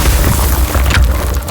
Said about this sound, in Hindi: और एक धमाका हुआ।